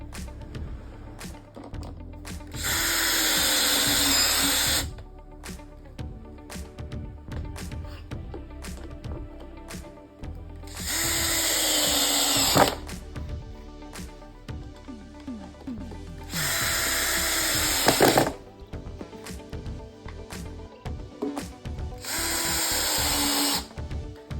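Bolts on a Venco pottery seat driven tight with a power driver, four loud whirring bursts of several seconds each, with clicks and handling noise between them.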